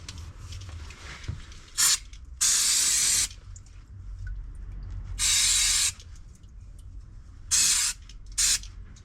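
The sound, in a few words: spraying brake cleaner on a car part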